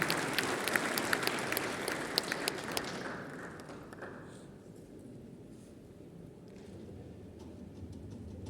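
Audience applause at the FANAF 2025 closing ceremony in Marrakech, a dense burst of many clapping hands that is loud for about three seconds, then thins out and fades to a quieter room murmur.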